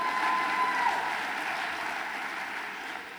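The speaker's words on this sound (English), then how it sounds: "applause for John, he's a local celebrity" Audience applause at a 2012 NUL conference dinner for John Hollowell, a local celebrity, steady broadband clapping from a room full of people with a brief tone near the start, sustained and fairly soft throughout.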